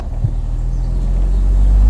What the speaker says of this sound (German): Fährt auch mit tiefen Drehzahlen an, habt ihr eben gerade gemerkt